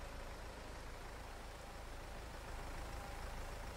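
A tractor engine in the Farming Simulator 22 video game hums as a faint, steady drone during hay making, with no voices and no change in pitch or rhythm.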